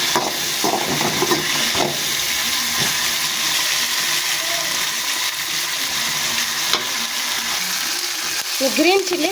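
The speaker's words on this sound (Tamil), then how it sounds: "சுண்டைக்காய் இந்தமாரி பொன்னிறமாக வதக்கினோங்க" Sundakkai (turkey berries) fry in a pan until golden, giving a steady close sizzle and hiss with occasional stirring scrapes and faint voices in the background.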